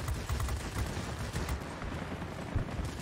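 Spitfire XVI cannons firing in the World of Warplanes game, a dense, continuous rattle of rapid gunfire with engine roar behind it, loud and steady throughout.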